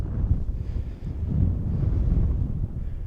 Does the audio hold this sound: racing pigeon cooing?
no